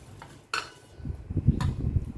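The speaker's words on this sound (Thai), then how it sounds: "คนนะครับมะเขือเทศ" Tomatoes get stirred into a spicy instant noodle salad with minced pork: two sharp clinks of a utensil against a bowl, then soft, close scraping and mixing sounds.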